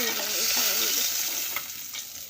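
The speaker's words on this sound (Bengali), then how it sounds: "এই তো আমার পেঁয়াজ ভাজা হয়ে গেছে মাছের" Onions sizzle and crackle in a hot pan for a fish bharta while a spoon stirs and scrapes through them, loud and close, fading slightly toward the end.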